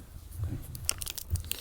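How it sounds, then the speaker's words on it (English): A hammer smacks chunks of charcoal to break them into smaller pieces outdoors at a winter camp forge, giving a few dull, crunchy impacts up close with brief cracking bursts. "So we'll smack these bits with a hammer,"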